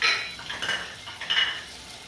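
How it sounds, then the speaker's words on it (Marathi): Two chopped onions tipped into a pan for frying, a brief scrape and clatter of a spoon against the metal pan with a light hiss. "साधारण मी 2 चिरलेले कांदे भाजण्यासाठी टाकत आहे"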